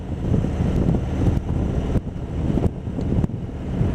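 Strong wind noise buffets the microphone while riding a 2020 Harley-Davidson Road Glide Special motorcycle, a loud continuous rush with brief gusty dips and no talking.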